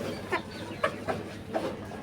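Hens on a terrace cluck softly nearby in a few short, separate calls over a faint background hum.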